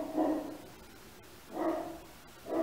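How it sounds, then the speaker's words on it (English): A dog barks upstairs in a house, heard as three muffled, indoor bursts of barking spaced about a second apart, at moderate loudness with no talk. "My dog's barking upstairs."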